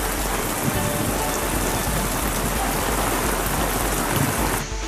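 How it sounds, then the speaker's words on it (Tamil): Heavy monsoon downpour over a town in Thoothukudi, a dense, loud, continuous roar of rain hammering surfaces with a low rumble of thunder underneath, steady throughout. "இடியுடன் கூடிய கனமழை பெய்தது"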